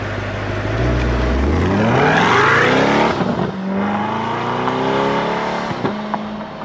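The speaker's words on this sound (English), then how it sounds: "Last but not least, this is what track mode sounds like." Corvette C8 in track mode, its engine roaring up through rising revs in a loud, close pull, a brief dip as it shifts, then a second strong climb with a few sharp pops near the end.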